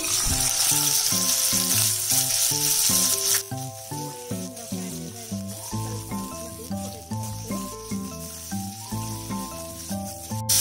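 Keema bones drop into a little hot oil in a pan, giving a loud, dense sizzle for about three seconds before melodic background music takes over, with the frying hiss fading beneath it.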